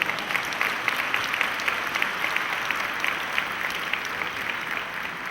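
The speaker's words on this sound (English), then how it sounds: "So please give her a big round of applause." Steady applause from a large audience at a formal awards dinner, dense even clapping filling the room at moderate distance, with no voices standing out.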